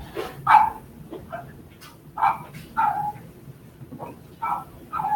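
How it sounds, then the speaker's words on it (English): A dog barks in short, sharp bursts, roughly five or six barks spaced unevenly over a few seconds, moderately close and standing out clearly over a quiet low background. "The dog is pissed off."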